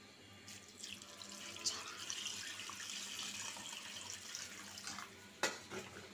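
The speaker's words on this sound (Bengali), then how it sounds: "পরিমাণ মতো পানি দিব।" Water pours into a cooking pot of potato and lentil chorchori, a soft, steady splashing gush with a couple of light metallic knocks from the pot.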